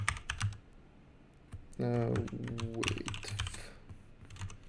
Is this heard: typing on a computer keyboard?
yes